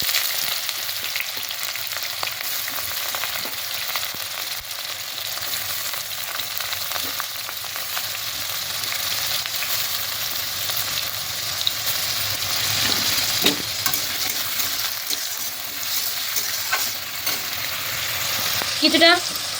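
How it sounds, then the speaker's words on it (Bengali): Onions fry in hot oil seasoned with bay leaf, whole cumin and dried red chillies, crackling loudly and steadily up close, punctuated by occasional stirring knocks and scrapes. "পেঁয়াজ ভেজে দিচ্ছি"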